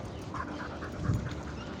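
A dog pants in quick, soft rhythmic breaths close by while out on a walk toward a park, with faint outdoor background noise and no speech.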